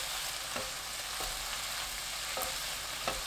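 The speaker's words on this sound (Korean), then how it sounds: "팬이 달궈지면 양념한 무말랭이 넣고 센 불로 2분 볶아주세요." Seasoned dried radish strips stir-fry over high heat in a hot pan, a constant soft sizzle with a few scraping stirs every half second or so, with no voices.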